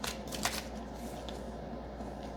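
Divination cards converted from playing cards are shuffled, giving a quick burst of papery riffling and flicks at the start, then a softer rustle as some of them tip over, close up and fairly quiet.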